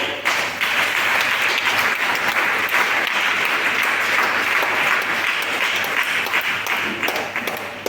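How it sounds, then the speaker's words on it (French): Church congregation applauding together, a dense, steady wash of clapping held loud and close for the whole stretch before tapering at the very end. "Nous allons acclamer cette parole."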